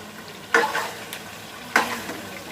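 A spoon scrapes twice through frying chicken karahi with added yogurt in a pan, two distinct stirring strokes about a second apart over a quiet, steady sizzle.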